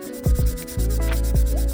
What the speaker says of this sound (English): a quick sanding on the walnut and just a touch on the plywood helps it slide smoothly into those dados